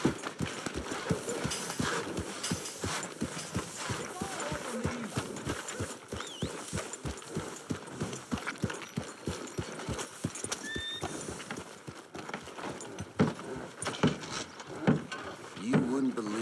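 Horse hooves clip-clop in a steady, even rhythm through Red Dead Redemption 2, close and continuous over the whole stretch, with a brief whinny partway through and background game ambience.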